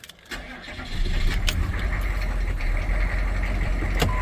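Diesel engine of an old truck cranking and catching after air is bled from the fuel line, a brief starter whir followed by a loud, steady idling rumble with a couple of sharp clicks.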